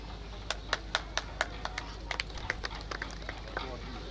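Audience applause at a project launch ceremony for a premium integrated housing development: a steady patter of hands clapping with sharp, evenly spaced claps throughout, over crowd noise and a low background hum.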